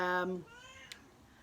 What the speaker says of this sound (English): it's the flaming cat whinging to get out the door